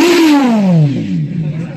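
A Kawasaki Z900 fitted with an R11 exhaust gives a loud, close rev that falls away quickly over under two seconds.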